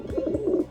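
Pet pigeons coo softly in a low, warbling murmur, close by indoors, in one brief continuous phrase.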